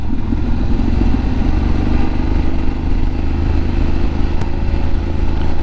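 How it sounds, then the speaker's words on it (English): Motorcycle descending a steep mountain road on an adventure ride in Doi Chang, its engine braking in a steady, loud droning rumble with wind noise and no talk. "coming down a pretty steep hill, using a lot of engine braking and trying to minimize the use of my brakes"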